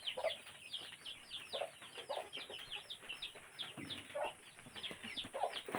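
Young ducks kept in a homemade temporary pen give dense, high repeated peeps and chirps, a steady overlapping chatter close by with a few lower clucking notes mixed in.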